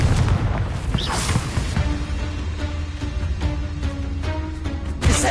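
A Confringo fire spell in the Hogwarts Legacy video game bursts with booming blasts: one around the middle and another sharp one at the end, over continuous loud game music and ambience.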